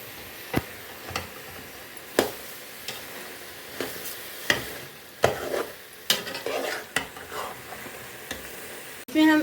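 A spoon scrapes and stirs sugar through carrot halwa in a pan with irregular close strokes and clinks against the metal, over a faint sizzle.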